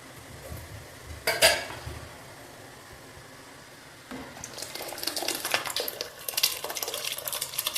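Metal utensils clink and scrape against a pot, followed by wet, sloshing stirring of soaked sago in liquid that grows busier toward the end, with no talking.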